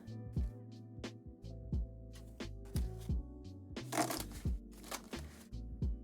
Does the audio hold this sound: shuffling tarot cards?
yes